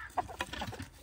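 Hens cluck softly in a short, busy burst of overlapping calls, close by.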